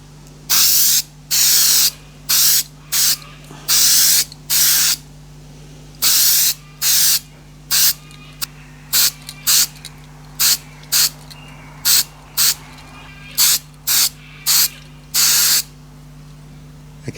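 A spray can lays a first coat of quick-drying filler onto a cast aluminium lava lamp base, with loud close hissing bursts, long at first and then shorter and quicker, over a steady low hum.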